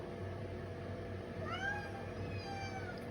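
A cat meows once indoors in an apartment, a drawn-out rising and falling cry over a steady low hum, close by and fairly quiet.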